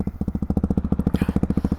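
Hyper 698 motorcycle fitted with a full titanium S1 exhaust with honeycomb outlet and dry carbon fiber, idling with a steady, fast, loud lumpy thump of evenly spaced pulses, close to the pipe.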